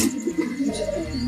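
A red pigeon in a high-flying pigeon loft gives a short, soft cooing call, close by, with low rounded pulses.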